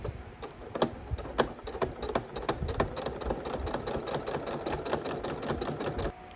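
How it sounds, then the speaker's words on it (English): A domestic sewing machine stitches the side seams of a quilted tote bag's thin lining fabric, running in a steady fast rhythmic whir with periodic clunks. It sits close and is heard alone. "And then sew down the side seams just like I did with the outside shell of the bag."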